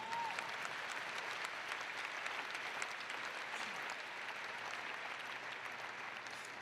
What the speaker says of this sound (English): A round of applause for poetry.